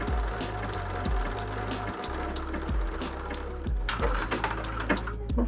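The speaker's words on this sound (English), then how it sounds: "I have the machine set for a blanket stitch, and I'm doing it 4mm by 3mm." Sewing machine stitching a 4mm by 3mm blanket stitch on a fabric satchel, a steady mechanical whirr with rhythmic needle thumps that pause briefly and resume, running alone close by.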